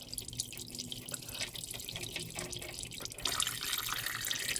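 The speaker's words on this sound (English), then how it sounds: "We'll set it in the pan and allow it to drain." Engine oil dripping from a removed oil filter of a 2015 Ford F-150 into a drain pan, a faint steady trickle of small drips that thickens into a denser patter near the end.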